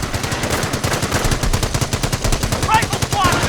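Rapid, evenly spaced automatic gunfire rattles on loudly and without a break in the World War II strategy game Company of Heroes, with faint battlefield noise mixed in.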